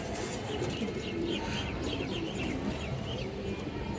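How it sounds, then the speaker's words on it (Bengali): A female Bezi pigeon coos softly and continuously nearby, a low burbling murmur with faint chirps above it and no talking. "এই দেখেন দর্শক কৌতরটা"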